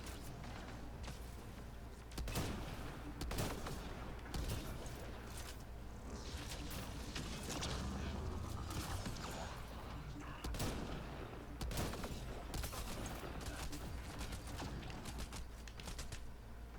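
Rapid bursts of gunfire crackle in the video game Mass Effect Andromeda, sharp repeated shots and volleys over a low, steady game rumble, quiet in level.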